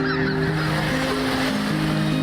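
Geese honking loudly and repeatedly over winter rice fields, layered calls from a flock overlapping continuously with no voices.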